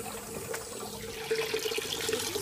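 A faucet runs in a steady, close stream with a bright splashing hiss, growing slightly louder in the second half, with no voices.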